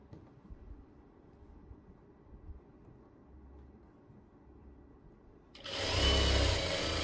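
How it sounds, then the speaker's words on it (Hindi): A sewing machine stitches a seam on pants or palazzos, kicking into a loud, steady whirring run near the end after several seconds of quiet low rumble. "और सिलाई लगाएंगे ये देखिए इस तरीके से"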